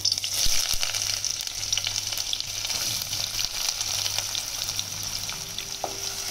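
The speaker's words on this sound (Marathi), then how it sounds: "आता आपला तेल गरम झाला, याच्यात आपण पहिलो कांदो घालूया फोडणीत" Hot oil sizzles and crackles steadily close by as onion fries, with a low hum underneath and a brief tonal squeak near the end; no speech.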